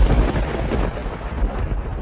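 A deep rumble of thunder opens a cartoon storm scene, followed by a dense hiss of heavy rain that keeps going underneath.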